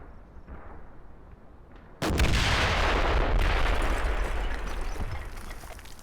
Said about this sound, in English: There's definitely a gun or a vehicle firing.